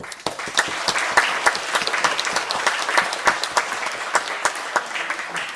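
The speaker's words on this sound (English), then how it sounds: "I think that deserves a round of applause from everybody" Guests applaud during a best man's speech at a wedding, a lively, close round of clapping with distinct individual claps throughout.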